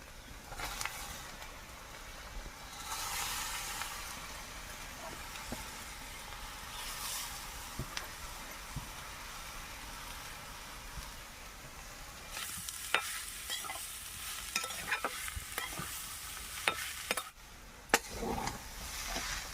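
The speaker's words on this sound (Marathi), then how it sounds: "आता आपण भाजी टाकूया." Chopped jackfruit vegetable is tipped into a hot pan of browned onion, frying with a steady sizzle while a spoon stirs and scrapes, with louder clatters of the utensil toward the end and no speech.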